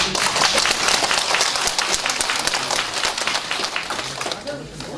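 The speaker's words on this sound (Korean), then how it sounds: "박수요" An audience at a family-values rally in Jinju breaks into a dense round of clapping that fills the space and slowly tapers toward the end.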